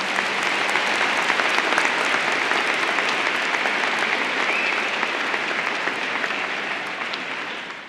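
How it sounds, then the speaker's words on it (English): Sustained applause from a packed crowd at a Rocky Mountain High School 2024 graduation ceremony, a dense steady clatter of many hands held at full strength for about eight seconds before easing slightly at the end. "Can we get a round of applause for everyone that made this day happen?"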